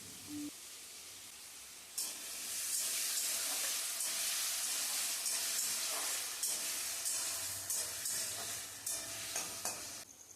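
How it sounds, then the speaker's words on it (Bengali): Potato pieces fry in oil in a pan with a loud, continuous sizzle and hiss, close by, with occasional stirring crackles and no talking. "এবার ওই তেলের মধ্যে অল্প আরও একটুখানি তেল দিয়ে একটুখানি আলু ভেজে নেব"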